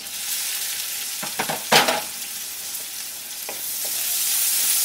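Chopped ginger and onion sizzle steadily in hot oil in a pan, with a broad frying hiss throughout and a few scraping stirs of a spatula, one louder clatter near the middle; no talking.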